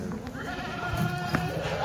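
A pregnant Kathiyawadi goat bleats once, briefly and fairly close, amid a livestock truck's noise while people talk nearby.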